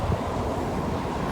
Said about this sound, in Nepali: क्या हावा चल्दिरह यार, भरे बब्बल हावा चल्दिरह